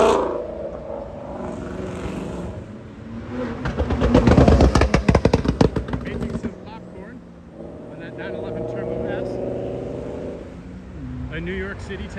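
Cars leaving a car show in traffic, among them a Mercedes-AMG SL, a Mustang, a Porsche and a BMW M4, drive past at close range. A loud revving surge builds in the middle and then fades under steady road rumble, with voices heard in the background.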